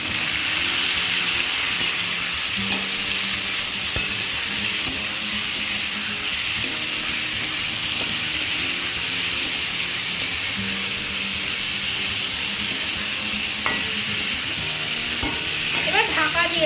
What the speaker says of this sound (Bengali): এবার এঁচোড়টা ভালোভাবে একটু কষিয়ে নেব